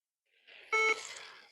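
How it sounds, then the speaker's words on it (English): An RC lap timer's motion detection gives one short, loud electronic beep, a steady pitched tone lasting about a quarter second, set between soft rustling noises in an otherwise quiet room. "if we hear it beep, we know that motion detection is working"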